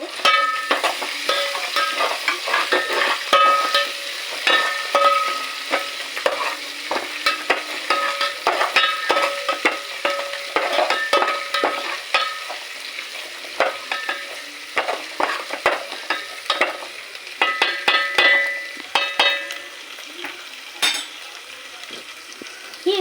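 Green chillies frying in a pan give a steady close sizzle, broken by frequent scraping and stirring clatter from a spoon against the metal pan, with no talking.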